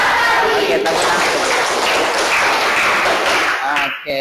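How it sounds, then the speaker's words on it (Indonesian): A classroom of students applauding together in unison, a dense, steady patter of clapping that fills the whole stretch, with voices mixed in near its end. "Oke, tepuk tangan."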